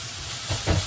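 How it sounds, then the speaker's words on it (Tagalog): Flaked fish with onion, garlic and tomato sizzles in a hot pan, a steady loud frying hiss with a couple of stirring swells near the end, no voices. "Pag nagisa mo na yung ating sibuyas, bawang, kamatis, lagay na rin natin yung ating isda."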